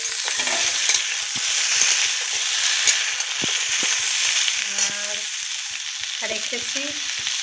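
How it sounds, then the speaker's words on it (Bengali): Potatoes that were fried earlier, together with vegetable stalks, go back into hot oil and fry with a continuous close crackling sizzle, broken by a few clinks and scrapes from a spoon. "আলু, তেলে ভেজে রেখে দিয়েছি, তাই আলুটাও দিয়ে দিচ্ছি"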